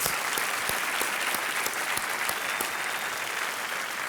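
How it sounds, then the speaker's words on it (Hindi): Steady applause from a large game-show studio audience, dense clapping throughout without pause, fairly loud and close. "बहुत बहुत बधाई, तालियों के साथ।"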